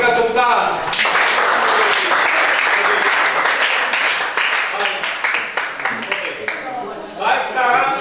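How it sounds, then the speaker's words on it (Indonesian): A classroom breaks into applause after a group presentation, dense loud clapping from many hands right after a short voice, fading into scattered claps before talk resumes. "Berikan tepuk tangan."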